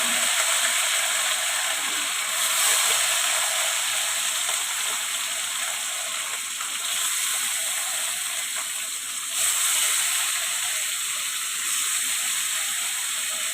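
Pieces of rohu fish fry in hot oil, making a continuous, dense hiss and crackle that stays close and even throughout, with no talking over it.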